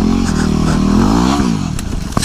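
A dirt bike revs hard on a wooded trail, its engine close and loud, pitching up and down through a couple of throttle bursts with some clattering.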